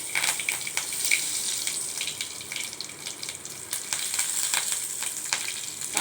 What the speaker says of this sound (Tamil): எண்ணெய் ஊற்றிருக்கேன். கடுகு போட்டுக்கலாம். கருவேப்பிலை போட்டுக்கலாங்க 2.